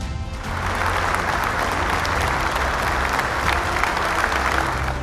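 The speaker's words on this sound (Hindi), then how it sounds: "जोरदार तालियों से स्वागत कीजिए" A crowd breaks into loud, dense applause to welcome a quiz team onto the stage at a televised family Bible quiz semi-final, continuing steadily to the end.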